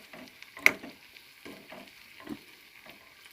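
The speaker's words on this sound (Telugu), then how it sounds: "ఫస్ట్ బెల్లం బూరెలు వేసాను, ఇప్పుడే అవుతున్నాయి." Jaggery burelu fry gently in hot oil with a soft, intermittent sizzle and bubbling, broken by a sharp clink of a utensil near the start, quiet and close with no talking.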